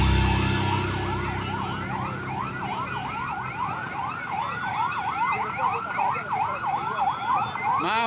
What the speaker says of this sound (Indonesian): bantuan ambulan aja nggak tanggung-tanggung nih